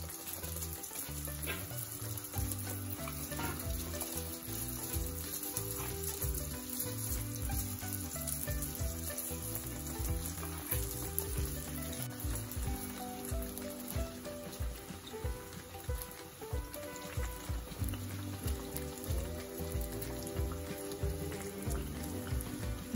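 Doughnuts deep-frying in hot oil over a medium flame give a steady, dense crackling sizzle that carries on close and loud for the whole stretch, with no talking.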